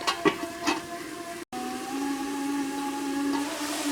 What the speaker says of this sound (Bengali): এভাবে খুব সুন্দরভাবে আস্তে আস্তে নেড়ে চেড়ে জলের সঙ্গে মাছ কষিয়ে নিচ্ছি